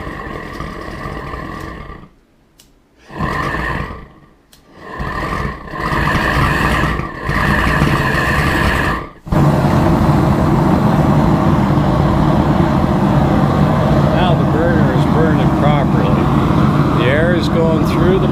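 A gas burner lit with a lighter catches after several short bursts of gas flow with pauses, then roars steadily and loudly close by, with someone talking over parts of it.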